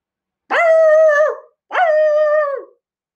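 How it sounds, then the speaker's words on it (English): A dog gives two long, drawn-out howling calls separated by a short pause, loud and close with no talking. "likes to bark when I start talking"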